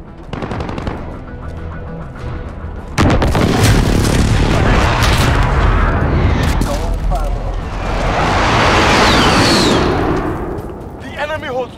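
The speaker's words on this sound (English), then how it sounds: "Enemy position airstrike." Airstrike explosions in Call of Duty: Modern Warfare multiplayer, a sudden massive blast erupting about three seconds in and followed by rumbling, crackling detonations and gunfire, with game voice callouts heard before and under the barrage.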